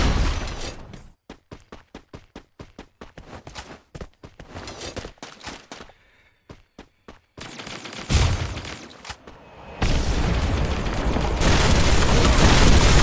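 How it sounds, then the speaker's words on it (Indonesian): Gunfire crackles in a video game esports tournament grand final, with rapid bursts of shots, brief pauses, then heavier booming blasts and dense explosive noise toward the end, loud and without talk. "Dia DJP Angga terkena tembakan dari kawan-kawan DJP"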